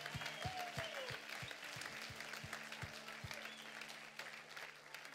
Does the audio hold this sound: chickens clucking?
no